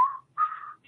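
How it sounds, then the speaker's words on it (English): A person whistling a slow tune, two clear sustained notes close to the listener with a short gap between them, alone and quiet. "sometimes I think it's nice with a little bit of whistling"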